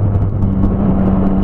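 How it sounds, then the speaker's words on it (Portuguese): Motorcycle engines rumble steadily in dense city traffic, a loud low drone of several bikes passing close with no voices over it. "Olha quanta moto."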